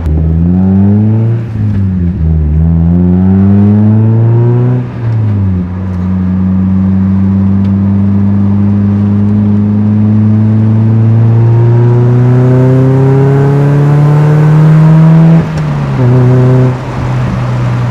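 A Mazda NB Miata with an ISR Performance aftermarket exhaust runs close and loud, rising and falling through several gear shifts and a sustained pull, its raspy engine note climbing steadily before dropping and revving again near the end, with no talking.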